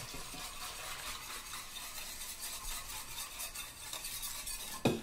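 Beaten eggs being stirred into a dry mixture in a pan for Italian pudding: soft, continuous scraping and swishing with faint utensil clinks, fairly quiet and close, ending in one sharper knock, with no talk.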